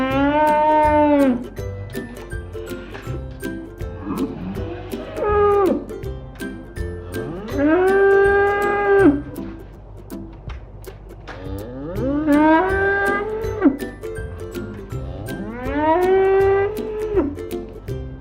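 A cow lows in four or five long, drawn-out moos in sequence, each rising then falling, loud and close with short pauses between calls.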